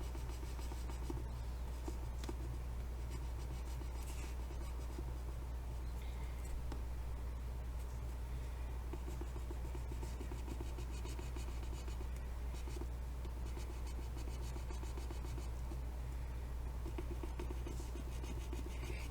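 A stick scratches and rubs over rub-on transfers held firmly against a washi tape dispenser, faint and continuous, over a low steady hum.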